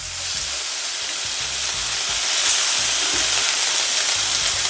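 Blackened chicken pieces sizzling loudly in a hot pan just after flipping, a dense steady frying hiss with faint clinks, close and alone without talk.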